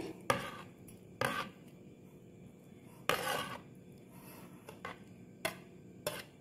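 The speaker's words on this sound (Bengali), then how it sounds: "এই আমটা আমি এবার মিক্সির বাটির মধ্যে দিয়ে দিচ্ছি।" Mango pieces dropped into a mixer grinder jar, a series of sharp clattering knocks and scrapes at irregular intervals against a quiet kitchen background.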